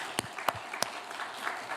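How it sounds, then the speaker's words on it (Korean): In a quiet church during a revival meeting, only a few scattered hand claps ring out, three sharp distinct claps followed by faint trailing ones. "박수 좀."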